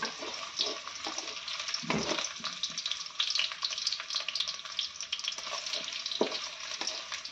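Onion frying in a pan with ginger and garlic in a home kitchen, a steady loud sizzle with bursts of crackle and a few stirring scrapes, no talking.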